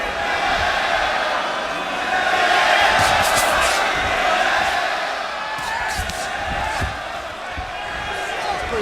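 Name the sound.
cheering crowd of Mexican boxing fans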